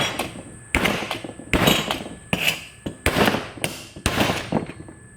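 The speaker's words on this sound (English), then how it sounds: "It's not easy to hammer angle, but this is the only metal I've got here" Hot steel angle iron being hammered flat, about eight loud, sharp metallic blows in an uneven rhythm, each ringing briefly before the next strike, with a faint steady whine in the background.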